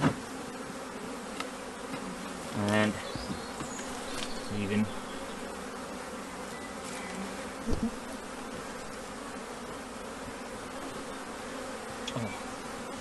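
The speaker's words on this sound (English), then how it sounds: "A lot more bees in this one," A steady, dense buzzing of many honeybees in a hive colony fills the whole stretch, close by, with a few brief louder passes and a couple of quiet spoken words.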